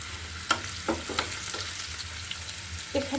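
Onions frying in a pan with salt and turmeric added, a steady low sizzle with a few scrape and stir knocks over it, no voices.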